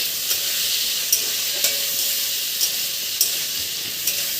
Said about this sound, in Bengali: এবার পনিরটাকে অল্প লাল করে ভেজে নেব।